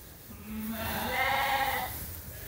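A lamb bleats once in a straw-bedded pen among a group of lambs, a single drawn-out bleat rising and fading over about two seconds, close and clear over a low background hum.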